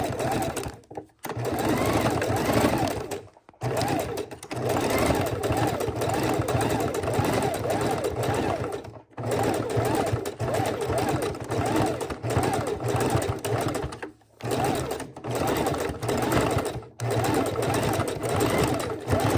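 A sewing machine stitching raw-edge appliqué fabric, a loud continuous mechanical whir running in long stretches broken by brief stops, with a person talking over it.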